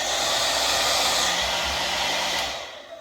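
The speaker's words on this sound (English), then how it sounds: "This is a blow dryer." A blow dryer running steadily with a loud continuous whooshing roar, close by, before powering down near the end.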